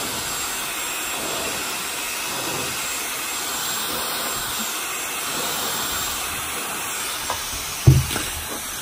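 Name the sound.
Dyson Supersonic hair dryer blowing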